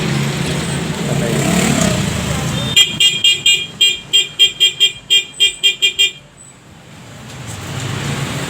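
A motorcycle horn on a Honda Click 150 (Flash R150) honks in a rapid series of about a dozen short, evenly spaced beeps, loud and close, with a chattering voice and street noise before and after.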